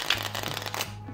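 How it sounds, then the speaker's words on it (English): A deck of playing cards being shuffled during a card trick, a quick close papery riffle lasting about a second. "so you can even have the spectator shuffle the deck of cards"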